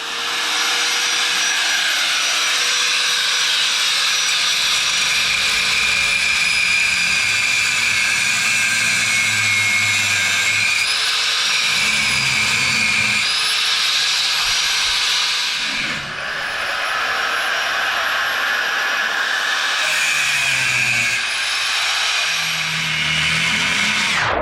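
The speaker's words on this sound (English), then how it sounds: "So I'm just going to take a side grinder and grind here and here, and try not to hit the drive shaft" A side grinder cuts rusted parts off a vehicle drive shaft, a loud continuous high-pitched whine with rising and falling pitch as the disc loads and frees up, running steadily for the whole stretch with a brief dip partway.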